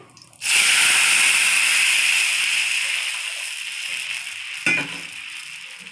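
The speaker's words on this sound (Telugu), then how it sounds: "ఇప్పుడు ఈ కలుపుకున్న పచ్చి పులుసు దీనిలో వేసేస్తున్నానండి" Raw jaggery tamarind soup is poured into a hot pan of tempering with curry leaves, bursting into a loud, sustained sizzle that slowly settles, with a brief sharp flare near the end.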